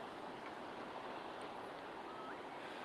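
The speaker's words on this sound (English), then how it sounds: "we are going to be looking at this beautiful sea the entire way" Sea waves washing in a continuous, steady rush, blended with wind noise and no voices.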